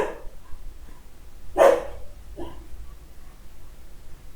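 A pet dog barks a few times indoors, one sharp clear bark followed by a softer one, fairly near against a quiet room.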